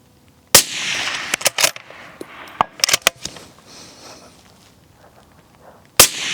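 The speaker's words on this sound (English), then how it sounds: "Man, I just can't make those follow-up shots very good." Several sharp, loud gunshots from a Remington 700 rifle chambered in .308 Winchester with a suppressor crack in irregular succession, some close together, with quieter handling noises between them and one more shot near the end.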